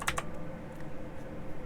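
Two quick, close key clicks on a computer keyboard are followed by fainter, scattered taps as someone types and presses enter, with quiet room tone under them.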